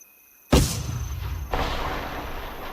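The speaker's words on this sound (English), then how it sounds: "It's cannon fire! Blood Legion cannon fire!" Blood Legion cannons firing in Guild Wars 2: a sudden loud boom followed by a lingering rumble, then a second heavier blast about a second later, both close and reverberant.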